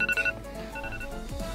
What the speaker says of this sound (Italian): forse non sarebbe meglio che ti svegliassi e spegnessi quella dannata sveglia?